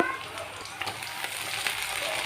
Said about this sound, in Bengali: প্রথমে আমি পেঁয়াজটা তেলের মধ্যে দিয়ে দিলাম কিছুক্ষণ আমি পেঁয়াজটা ভেজে নেব